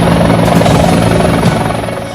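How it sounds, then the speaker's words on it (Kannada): The Karnataka chief minister's helicopter sits at a landing site in Anavatti, Shivamogga, during an election inspection, its rotors and engine making a loud, close, steady whirring drone that eases slightly at the end. "ಸಿಎಂ ಕುಮಾರಸ್ವಾಮಿ ಹೆಲಿಕಾಪ್ಟರ್ ತಪಾಸಣೆ."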